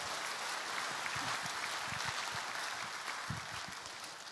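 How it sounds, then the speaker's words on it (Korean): Moderate applause from a church congregation at a Sunday worship service, welcoming guests. Steady clapping with a few nearer, sharper claps standing out, heard alone without talk. "박수로 환영하도록 하겠습니다"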